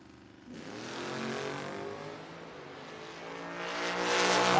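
Drag race launch of a Ford Maverick against a Toyota Camry at a No-Box 660 shootout: a loud engine roar bursts in after a brief quiet and holds at high revs, swelling louder toward the end.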